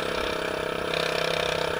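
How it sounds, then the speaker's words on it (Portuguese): A motorcycle with an open exhaust runs steadily close by, its low pulsing engine note holding at a fairly even idle-like rhythm for a short stretch. "Tô aqui ainda com o escapamento aberto,"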